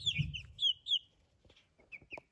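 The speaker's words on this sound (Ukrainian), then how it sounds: "Це курчатка, курочка, котрих несе голубе яйце." Ameraucana chicks cheep in short high bright calls, several in a row, over a brief low clucking from the hen at the start, then scattered quieter peeps, all faint and close.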